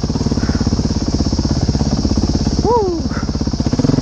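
A modded 2011 Honda CRF 450X dirt bike revs steadily close by on a trail ride, its engine note pulsing throughout while a rider gives a brief whoop partway through.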